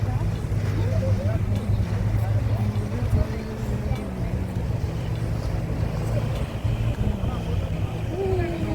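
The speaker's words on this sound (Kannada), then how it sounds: "ಕಾರ್ ಹೋಗ್ತಾ ಉಂಟು ನೀರಲ್ಲಿ. ಕಾರ್ ಬೋಟ್ ಗೊತ್ತಾ." An amphibious car boat cruises on water in Dubai, its motor a continuous low drone mixed with wind and water wash, while voices talk over it throughout.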